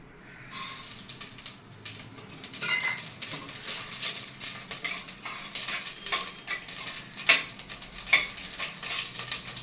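Continuous crackling sizzle of hot oil with sharp popping bursts as mustard seeds spatter in a pan for South Indian tempering, steady and close with occasional louder pops.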